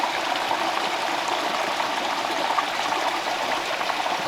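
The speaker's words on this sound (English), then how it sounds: "Tiny waterfall here." A tiny waterfall trickles into rocky pools, a steady close splashing hiss with no voices.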